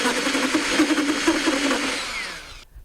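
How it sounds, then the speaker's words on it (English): A power drill boring partway into a soft cedar post, a loud, close, steady whirring grind with a slight wobble that runs for over two seconds and then stops abruptly. "just drill partially into the post, just so it touches at the right and left edges here"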